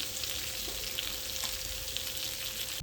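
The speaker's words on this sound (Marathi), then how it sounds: "दुसऱ्या साईडून पण व्यवस्थित अशी त्याला फ्राय करून घेऊया." Fish fries on its second side in a pan of oil, giving a constant close sizzle and crackle with small pops and no voices over it.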